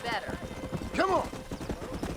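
Quick rhythmic hoofbeats of a galloping horse in Red Dead Redemption, steady and close, with a voice calling out over them.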